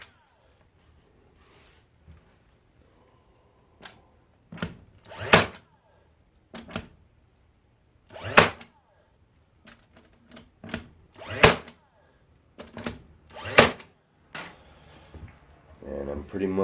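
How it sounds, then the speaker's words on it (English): Brads driven into wood along glue lines, a series of sharp percussive bursts from a nailer spaced irregularly over a quiet room, loud and close, with a few softer knocks between. "I'm pretty much nailing where I have my lines of glue."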